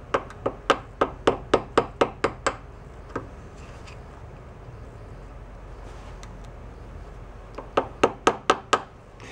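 Sharp hammer taps ring out on a part during reassembly of a 1941 Farmall A tractor engine, a fast series of about a dozen close, evenly spaced strikes, a lone tap, a quiet pause, then another quick burst of five or six.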